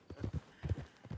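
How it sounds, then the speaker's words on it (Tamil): Horse hooves gallop in Red Dead Redemption 2, a rhythmic run of soft, muffled hoofbeat clusters repeating quickly and fairly quietly with no voices over them. "குதிரை வேகமா ஓடு ஓடு வேகமா"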